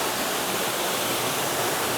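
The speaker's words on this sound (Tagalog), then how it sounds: "So ito pa yung panibagong anggulo ng falls na to." A small forest waterfall near Lipa City, Batangas, roaring as a dense, steady rush of falling water, loud and close, filling the whole clip without pause or voices.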